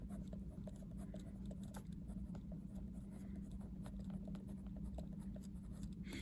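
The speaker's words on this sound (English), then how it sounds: "And I'm going to just write this up here." Marker or chalk scratches and taps out notes on a classroom board in quick irregular strokes, faint and close over a low steady room hum, with no talk.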